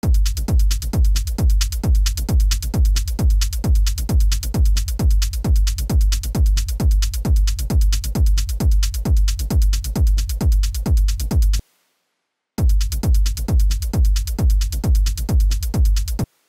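A techno track plays during mixing: a steady four-on-the-floor kick pounds at an even tempo with bright hats above, cutting out briefly near the end before resuming.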